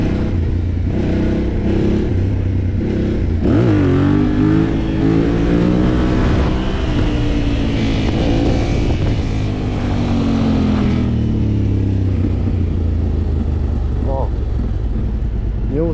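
A motorcycle engine rumbles and revs up and down steadily throughout, with a voice talking over it.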